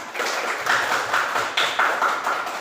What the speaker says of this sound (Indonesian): Aplaus buat Sarah